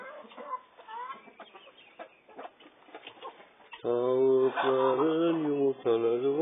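Hens cluck and squawk in short bursts inside a coop, then a loud, drawn-out cackling call rises close by, with scattered murmurs in the background.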